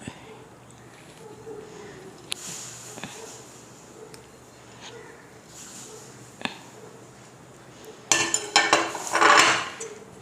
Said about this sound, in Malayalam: ഇനി അടുത്ത് ചെയ്യേണ്ടത്, ഈ പാത്രത്തിലേക്ക് തന്നെ നമ്മൾ നേരത്തെ ചിരകി വെച്ച തേങ്ങ ഇടുക